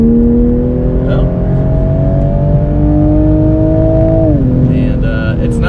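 A 2020 Toyota Supra accelerates with its exhaust in sport mode, a loud droning engine note heard from inside the car that climbs steadily in pitch, then dips at a gear change.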